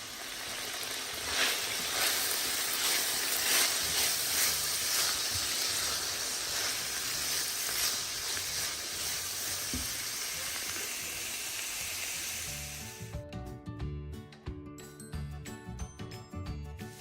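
Chicken fries in a pan with the lid just lifted and cabbage nearby, giving a loud, continuous sizzling hiss that runs for about thirteen seconds. It then cuts off and tonal music-like sounds follow.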